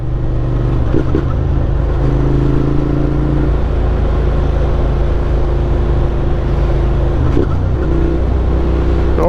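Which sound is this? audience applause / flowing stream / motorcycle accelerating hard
motorcycle accelerating hard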